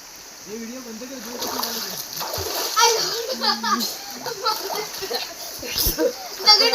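Swimmers splash in the water during an underwater breath-holding challenge, with repeated close splashes and churning water mixed with excited young voices calling out.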